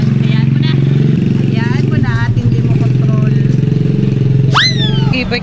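A parked motorcycle's engine runs close by with a steady low rumble throughout, under ongoing talk and a few high-pitched chirps near the end.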